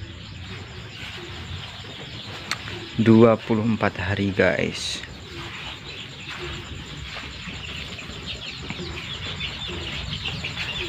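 Young free-range village chickens about three weeks old clucking and cheeping inside a rain-proofed coop, a brief louder burst of calls in the middle over steady background noise, with someone talking throughout.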